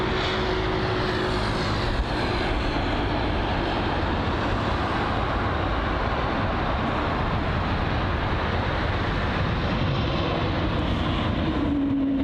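A KLM 195 jet at London Heathrow produces a steady, broad engine roar that holds at an even level for the whole stretch, with faint tonal whines near the start and end.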